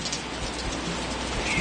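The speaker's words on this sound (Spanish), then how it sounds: "Está lloviendo un poquito." Light rain patters steadily and softly, a continuous gentle hiss of drops with no voices.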